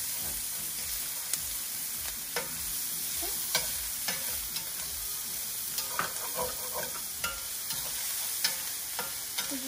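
Onions fry in a pan for a lemon garlic butter sauce, a soft continuous sizzle running throughout with scattered light clicks and taps of a utensil stirring, and no one speaking.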